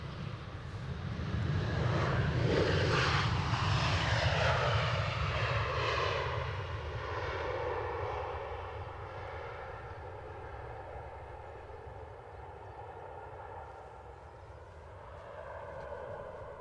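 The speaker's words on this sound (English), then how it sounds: "behind that, we've got an Aer Lingus ATR 72" An Aer Lingus ATR 72 turboprop airliner at Edinburgh Airport passes with a loud propeller-engine roar that peaks early, then slowly fades into a distant drone.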